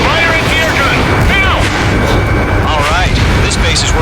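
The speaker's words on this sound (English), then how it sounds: "Fire anti-air gun! Now!" Anti-air guns fire from a base in the Ace Combat 7 campaign, a steady, loud barrage of booming shots under constant engine rumble, with radio chatter voices talking throughout.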